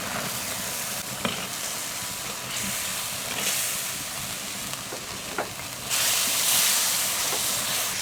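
Diced pork simmers with mushrooms as garlic scapes and carrots go into the pot, giving a steady close sizzle and hiss with a few soft clinks and a rising surge of steam near the end.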